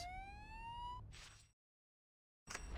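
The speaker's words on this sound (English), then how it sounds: "It sounds like an ambulance is coming." An ambulance siren in the Spider-Man 2 video game wails with a rising tone for about a second, then a noisy burst follows. The sound cuts to silence and returns abruptly at the end.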